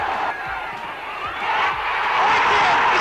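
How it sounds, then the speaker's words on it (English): A 1970s football crowd, Hereford fans roaring and cheering as they invade the pitch after Ronnie Radford's goal, a dense, loud wash of many voices that swells and grows louder toward the end. "crowd are invading the pitch"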